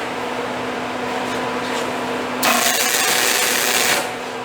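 A MIG welder welds a homemade gooseneck trailer while nearly out of CO2 gas, a harsh crackling hiss that bursts in for about a second and a half over a steady machine hum.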